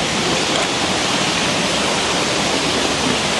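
A loud, steady roar of a rain-swollen river fills the whole stretch without a break, broad and close, in full flow.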